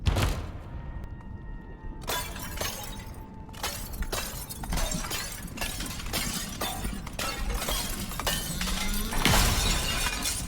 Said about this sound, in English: Now this is glass, actually, reinforced glass to be exact.